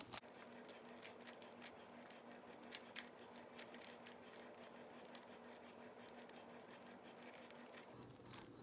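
A Rubik's Cube twisted by hand in a casual scramble, a busy run of soft plastic clicks and ratcheting turns heard close up over a steady low room hum, with no talking.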